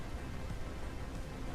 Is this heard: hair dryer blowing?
no